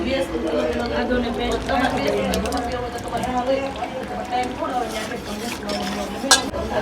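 Garlic and onion, with ginger about to join, fry in a pan for pav bhaji, a steady close sizzle with stirring scrapes running continuously beneath a person talking over it.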